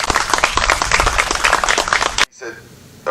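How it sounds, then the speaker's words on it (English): Guests at a 100th birthday celebration applaud the McPherson family, a loud, dense burst of crowd clapping that stops abruptly, followed by a quieter room with faint voices. "Give them a round of applause."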